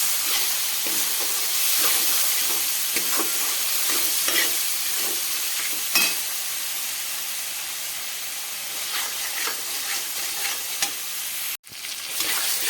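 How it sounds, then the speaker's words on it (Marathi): Loud continuous sizzling of masala stir-fried over a high gas flame in a hot pan, with repeated scraping and stirring strokes and a brief clatter near the end. "परतून घ्यायचं लगेच आणि यावेळेला गॅसची फ्लेम ही वाढवायची आहे"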